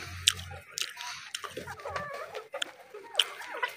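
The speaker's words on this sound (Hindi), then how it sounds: "अब हम आपको दिखाएंगे यहाँ पे मुर्गियां।" Village hens eating banana and apple peels cluck in short, scattered calls close by, mixed with soft pecking and rustling.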